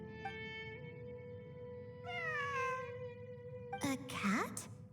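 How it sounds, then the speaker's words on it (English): A cat in the Genshin Impact video game meows twice, drawn-out and fairly close, with a shorter, sharper meow near the end over soft game ambience. "I'm not hearing things. It really is a cat."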